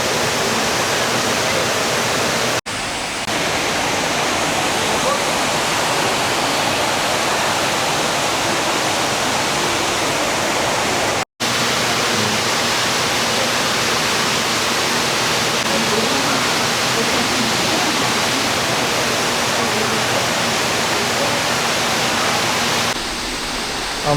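Steady, loud rush of flowing water at the Villa Escudero waterfall, a dense continuous roar filling the whole stretch with no voices, broken only by two very brief dropouts.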